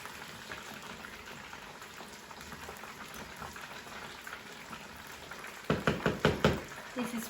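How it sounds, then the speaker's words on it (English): Chicken pieces fry in hot oil for crispy sweet chilli chicken, giving a steady close sizzle with a few louder knocks and bursts near the end. "This is frying really nicely."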